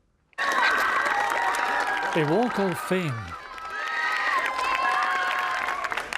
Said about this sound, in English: Hundreds of students at Malone College in Finaghy got out of class to cheer him on.